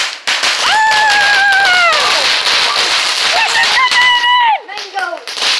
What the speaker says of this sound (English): But Mom lit a firework.